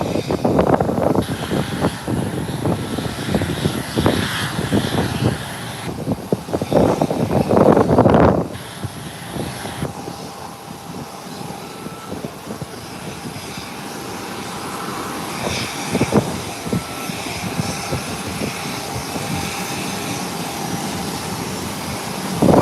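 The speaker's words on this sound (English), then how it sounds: "The CRJ9 requested to start an engine on the ramp." A CRJ9 regional jet starting an engine on the airport ramp, a loud continuous roar and whine with bursts of louder rumble early on, then settling into a steadier hum with faint clanks.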